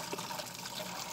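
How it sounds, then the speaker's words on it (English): Liquid from soaked rhubarb leaves being poured through a cloth filter, a brief steady watery splashing and trickling close by, without any talking. "So all we're gonna do is we're just gonna take this and dump it through."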